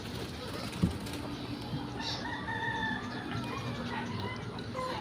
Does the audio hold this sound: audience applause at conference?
no